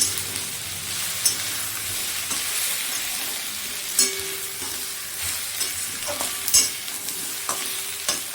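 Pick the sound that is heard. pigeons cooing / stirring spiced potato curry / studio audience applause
stirring spiced potato curry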